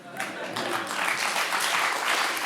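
A French television studio audience laughs and applauds on a talk show, a steady dense wash of clapping mixed with laughter and chatter, moderately loud throughout.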